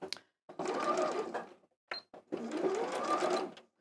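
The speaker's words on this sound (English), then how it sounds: "this isn't as noisy as my machine at home" A sewing machine stitching centimetre seams on a retro backpack, running close by in two steady bursts with a short pause between them and no talking.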